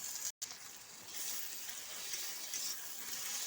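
Onion with green chili and ginger paste frying in a pan, a steady close sizzle with stirring scrapes running throughout after a brief silent gap at the start.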